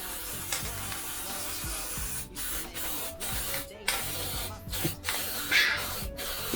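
A spray paint can sprays black paint in a steady, close hiss that runs for several seconds, broken by a few brief pauses between bursts.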